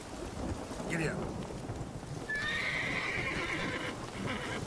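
A horse whinnies in The Witcher 3 video game, a clear rising neigh near the middle, followed by hoof clip-clop over steady rain and rumbling thunder in the background.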